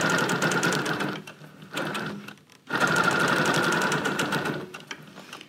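A Bernina Q24 longarm quilting machine stitches during ruler work on a quilt, a loud, rapid needle chatter running in bursts with two brief pauses before a long continuous run.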